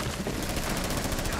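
Rapid automatic gunfire from a video game fills the moment in a dense, continuous burst of shots, loud and up close, with no pauses between rounds.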